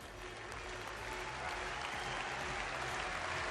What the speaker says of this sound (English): And as applause rings around the crowd, looks like Katrina will be taken off court.